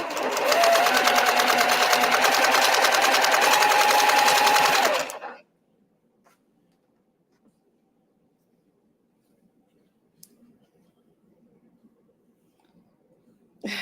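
Sewing machine stitching a quilt pattern, a steady rapid mechanical whir for about five seconds that stops abruptly, followed by near silence with a few faint clicks.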